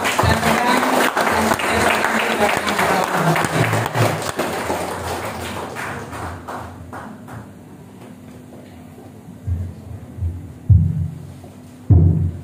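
An audience at a seminar bursts into loud, dense applause that holds for several seconds, then thins into scattered claps and fades, with a few louder claps and low murmuring near the end.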